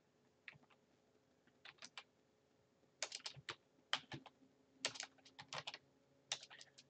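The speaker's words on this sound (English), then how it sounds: "And I type in scale." Computer keyboard typing in CATIA 3D Experience software, quiet irregular bursts of clicky keystrokes in short clusters over a faint background hum, with no talk.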